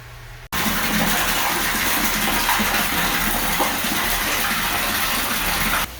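Water gushing into a 500 gallon aquaponic tank, starting abruptly after a brief quiet moment, then a loud, steady splashing fill that continues unbroken before easing slightly at the end.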